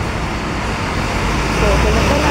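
A bus drives through traffic at about 3:30 a.m., a loud, continuous broadband engine and road rumble with a faint murmur of voices in the background.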